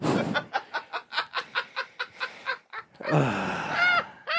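A chicken clucks in a rapid run of about a dozen sharp, evenly spaced pulses, then gives a louder, drawn-out squawking call, heard up close with nothing else over it.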